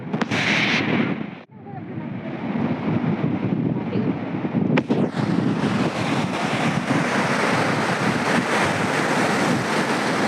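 Ocean waves washing onto the seashore in a steady, loud roar of surf with wind noise against the microphone, continuous throughout with a brief dip early on.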